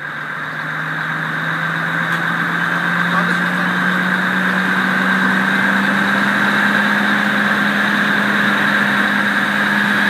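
A fire engine's aerial ladder machine runs steadily as the ladder is raised, with a droning engine and mechanical whine that hold constant and loud for about ten seconds.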